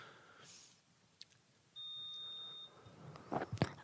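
A quiz bowl buzzer gives one steady electronic beep lasting just under a second during a buzzer test in a quiet room, followed by faint clicks and shuffling.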